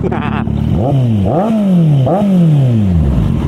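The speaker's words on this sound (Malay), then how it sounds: "Yang aku tahu bunyi motor ni memang sedap." A Kawasaki Z800 motorcycle engine revs up several times in quick succession, close and loud, each rev rising then falling back to idle.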